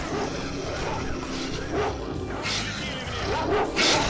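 Dogs bark and yip in STALKER Shadow of Chernobyl, several sharp barks rising over a steady background din, fairly loud and close, with no voices.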